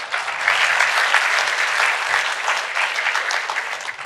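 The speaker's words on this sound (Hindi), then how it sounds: "तो तारीफ के लिए एक बार सबसे ताली बजवा दीजिए" A large audience at the TV9 WITT 2025 summit breaks into sustained applause, dense and loud clapping throughout with no speech over it.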